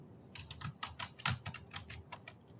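Quick, uneven keystrokes on a computer keyboard while a word is typed into Python code, a close run of about a dozen sharp clicks.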